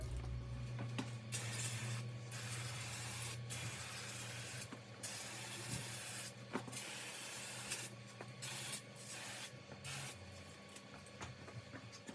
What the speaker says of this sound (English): I'm now just going to give that a hose down with some brake cleaner, get all the dust off